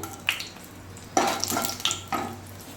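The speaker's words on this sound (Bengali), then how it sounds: "তেলটা গরম হয়ে গেছে। এবার সামনে আমি 2টো শুকনো লঙ্কা ফোড়ন দিয়ে দিচ্ছি" Two dry red chillies crackle as they hit hot oil in a wok, giving a few sharp sizzling bursts over a soft frying hiss, close and with no voices.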